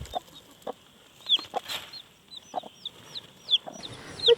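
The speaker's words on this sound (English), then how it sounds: "Look at that little chicken." A baby chick on an off-grid homestead gives a series of short, high, rapid peeps close by, mixed with a few soft low clucks from the flock in the background.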